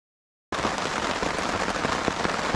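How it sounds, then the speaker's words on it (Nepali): Rain beginning to fall at a riverside fishing camp at night, a dense hiss of drops pattering on a surface, loud and steady after a moment of silence. "अहिले चाहिँ पानी पर्न स्टार्ट भइसक्यो है।"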